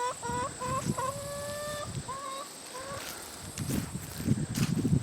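Chickens by a homestead chicken pen give a string of short rising clucks and calls, fairly near and alone, with some footsteps and rustling toward the end.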